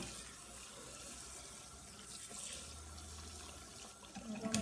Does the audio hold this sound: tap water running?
yes